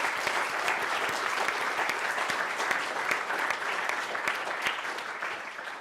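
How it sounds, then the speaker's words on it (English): An audience claps after a lecture on the Hillsborough disaster, with dense, sustained applause from a sizable crowd that holds steady for several seconds before tapering slightly. "Can we just give another round of applause for David?"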